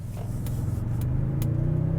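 A 2024 Toyota Tundra Capstone hybrid pickup accelerates, its engine note rising steadily as a low, continuous rumble builds in pitch and loudness, close and alone without talk.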